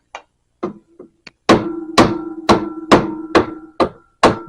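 Sharp hammer taps driving a part into place on an old air compressor being restored after long storage, a few scattered knocks then seven loud, evenly spaced ringing blows close by, with no talking.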